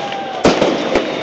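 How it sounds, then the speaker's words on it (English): Fireworks bursting outdoors during a street celebration near Gezi Park, Istanbul, with a sharp loud bang followed by a couple of smaller pops over steady crowd noise. "Oh, these are fireworks,"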